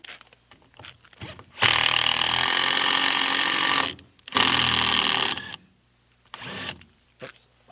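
Power drill driving a screw into wood, two long loud whirring runs with a short pause between, then a brief final burst, close up in a quiet shop.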